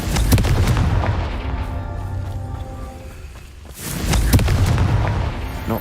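Confringo fire spell in the wizarding game Hogwarts Legacy: a deep booming blast with crackling burst, a short lull with humming tones, then another heavy rumbling explosion, no talking.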